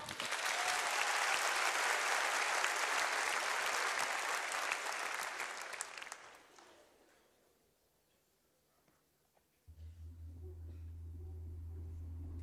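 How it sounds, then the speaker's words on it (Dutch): A theatre audience gives loud, sustained applause for acrobats. Dense clapping fills the hall for about six seconds, then thins and fades into near silence before a low hum begins. "Ik wil een heel groot applaus en een muisstille zaal voor Zinzi en Evert-Jan."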